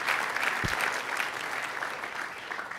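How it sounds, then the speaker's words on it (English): A crowd of attendees at an entrepreneur talk applauds a speaker named Tom, steady moderately quiet clapping from many hands that continues throughout. "give him another huge round of applause"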